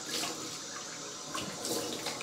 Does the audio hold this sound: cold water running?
yes